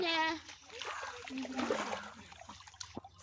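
Water splashes and gurgles close by for a few seconds, with a voice audible briefly at the start.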